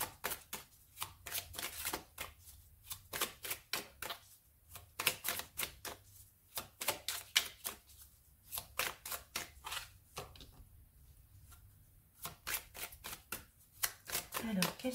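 Tarot-style cards are shuffled and drawn by hand for a card reading, giving rapid, repeated riffling bursts with short pauses between them, close and fairly quiet, with no talking.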